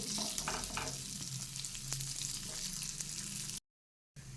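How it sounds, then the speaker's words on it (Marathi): Sabudana and potato appe balls sizzle steadily in a lightly oiled appe pan over a medium flame, a continuous close frying crackle that cuts out briefly near the end before resuming. "आता एक एक गोळा असा आप्पे पात्रामध्ये ठेवून द्यायचा आहे"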